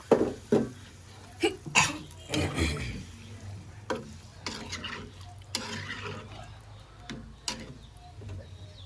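Potato and egg curry being stirred and fried down in a pan, with close, irregular scraping strokes of a spatula over a soft sizzle, loudest at the start and continuing without talk.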